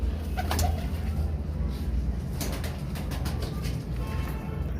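Kamgar pigeons at a crowded pigeon market in Shahdra, Lahore, give soft, repeated coos, close and steady over a constant low crowd rumble, with brief brighter bird calls cutting through.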